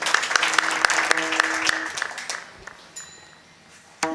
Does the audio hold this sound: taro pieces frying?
no